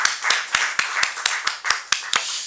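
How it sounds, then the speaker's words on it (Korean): Church congregation clapping after a closing prayer, a sparse, evenly spaced series of about ten sharp claps in a steady rhythm, fairly close and with no talk over it. "다시 한번 주님께 영광의 박수 올려드리겠습니다."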